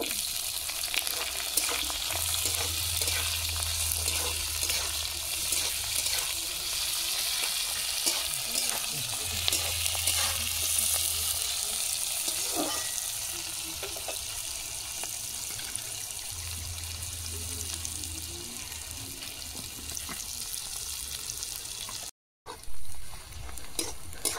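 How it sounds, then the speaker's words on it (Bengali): Onions sizzle steadily in a pan with soft stirring and scraping sounds; a low hum comes and goes in the background, and no one speaks. "পেঁয়াজ ভাজা হয়ে আসছে।"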